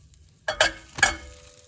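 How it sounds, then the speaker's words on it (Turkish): Soft sizzling as egg-and-milk-soaked bread fries in a pan, with two sharp bursts as the bread is placed down and shifted, frying quietly in between. "arkalı önlü ilk önce birinci ekmeğimi kızartacağım"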